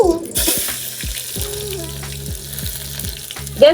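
Onions hit a hot pan for a cooked fast-breaking meal and sizzle steadily, with a few light knocks and a sharper clatter right at the end.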